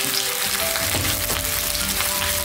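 Chicken feet frying in a wok make a dense, loud sizzle that stays close and steady, with a few stirring knocks in the middle and no one speaking.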